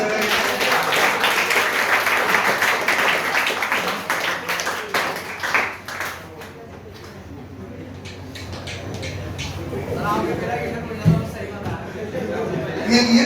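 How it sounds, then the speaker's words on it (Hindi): Scattered clapping from a class of students in a school classroom, loudest over the first six seconds and thinning out as chatter and room noise take over. "तालियां बजाओ प्लीज।"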